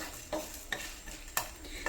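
Ingredients frying in a pan for an Arabic madhoot dish, a faint low sizzle punctuated by four light stirring scrapes and clinks of a spoon, close and quiet with no talk.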